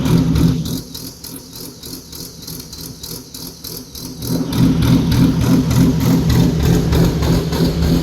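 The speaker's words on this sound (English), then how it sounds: "some people would walk by the car when it was on, idling and camming" A cam-tuned 3.7-litre V6 car idles with a loping, choppy exhaust beat, close and steady, swelling louder partway through.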